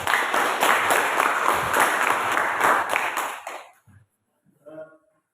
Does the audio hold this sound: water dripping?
no